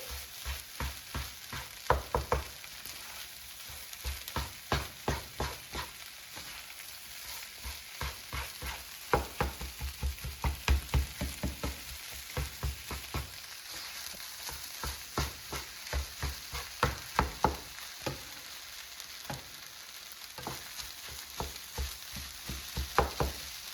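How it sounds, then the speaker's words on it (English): Rice and egg stir-fried in a pan, a continuous low sizzle broken by frequent rhythmic scraping and tapping of a spatula against the pan, close and steady throughout with no talking. "So continue mixing like this until all the egg is completely cooked and all the rice is coated"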